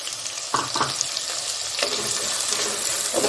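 Chopped onion fries in hot oil with browned cumin in a pan for dhaba-style chicken handi, giving a steady close sizzle with a few louder crackling bursts as it is stirred.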